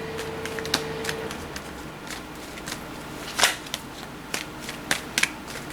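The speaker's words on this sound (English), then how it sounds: "I gotta stop shuffling so I can focus." Tarot cards are shuffled nearby in irregular papery riffles and soft snaps over a low room hum, some bursts sharper and louder than others.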